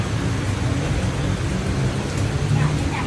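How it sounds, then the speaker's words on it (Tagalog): Steady rain falls on a night street in Bangkok, a dense, even hiss with a low rumble beneath it that holds constant throughout. "It's raining in Bangkok."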